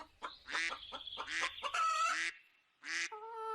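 Cartoon ducks, bought at a village market, quack in a quick run of loud, nasal calls close up, then pause before a final quack and a honking cry.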